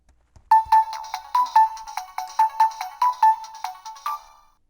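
A Fisher-Price toy remote plays a bright electronic melody of about a dozen quick, evenly spaced beeping notes, loud and close, ending with a short fading tone.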